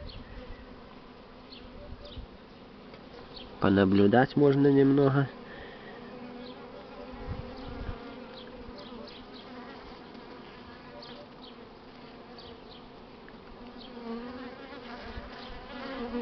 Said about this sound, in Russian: Пчелки оббегались вокруг клетки.